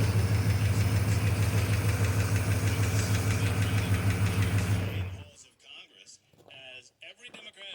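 GMC K2500 truck engine idling with a slight knocking noise, a loud steady rumble close by for about five seconds before it cuts away to quieter rustling and brief talk.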